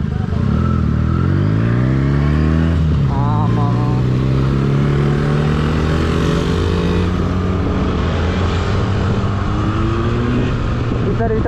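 A Benelli 300S motorcycle engine idles and revs, its pitch rising and falling steadily across the stretch, loud and close, with voices partly audible under the engine.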